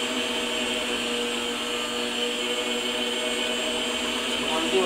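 Electric mixer steadily whirring as it blends peanut butter chocolate chip cookie dough, a continuous close motor hum with a constant pitch and no pauses.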